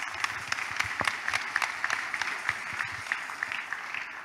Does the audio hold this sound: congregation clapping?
yes